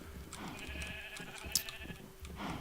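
Sheep in a Minecraft game bleat a few times in quick succession, fairly close and clear over a faint background hum, with no talking.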